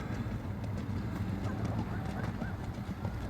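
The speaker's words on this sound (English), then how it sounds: "Horses." Horses clip-clop along a path near a waterside bike route, their hooves a faint, steady patter under wind and distant ambient noise.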